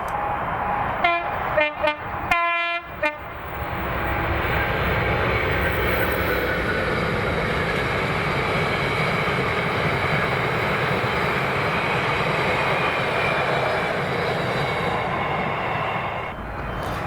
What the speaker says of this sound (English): this is 6S37, the 1014 from Carlisle to Ravenscroller empty aggregates train with 56105 and a lengthy rake of IOA wagons